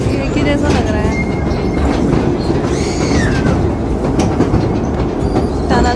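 A toy train rides through a tunnel at the National Rail Museum in Delhi, a loud, close rolling rumble with rhythmic wheel clatter and occasional squeals, while people talk over it.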